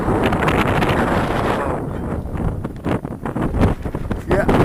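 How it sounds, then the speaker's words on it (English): Wind gusts across Hallin Fell at night, a steady broadband roar buffeting the microphone with rising and falling surges throughout. "so it's wind's still up"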